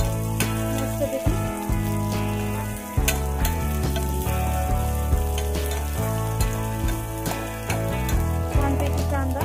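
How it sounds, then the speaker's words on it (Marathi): Vertically sliced onion with curry leaves sizzles and crackles steadily as it is stirred in a hot pan for homestyle village khichdi, with scraping stirs throughout, all beneath loud background music. "छानपैकी आपला कांदा परततोय"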